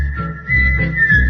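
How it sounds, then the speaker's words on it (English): A person whistling on a radio show: a sustained, steady whistle holding one pitch with a slight waver, loud and close, over a low rumbling background. "Listen to these professional whistles."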